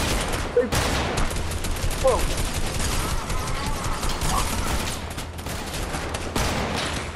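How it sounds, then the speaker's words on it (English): Dense, continuous gunfire from guards fills a Fortnite match, rapid volleys of shots overlapping throughout with a few louder bursts, while players talk over the shooting. "No, they're shooting at me."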